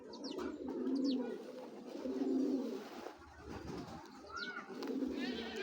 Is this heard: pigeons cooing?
yes